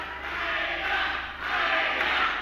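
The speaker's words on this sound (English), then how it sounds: "you can hear the fans here get behind Matt Hayter" A wrestling crowd at an indie show cheers for Matt Hayter, a dense, continuous roar of voices rising and falling slightly in two swells, loud and filling the space, with no commentary over it.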